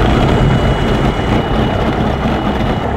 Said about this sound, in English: Wow, we started the engine.